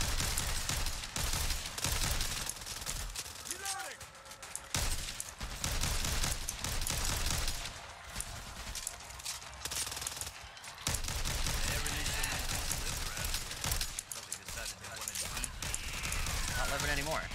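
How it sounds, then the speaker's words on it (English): Rifle emptied in rapid bursts in a shooter video game, with dense gunfire crackling loud and close over music, while a voice talks excitedly over the shots. "Mag dump him in the face."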